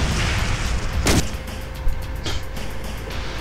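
Heavy, rumbling explosion noise from the Brutal Doom mod fills the scene, with a sharp blast cracking out early and a few smaller bursts over a continuous low roar.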